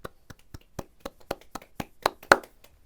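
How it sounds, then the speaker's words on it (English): Clapping at a virtual photography awards ceremony, roughly a dozen distinct claps in a steady, slightly uneven rhythm from one or a few people, close and fairly sparse rather than a crowd. "let's all give them a round of applause"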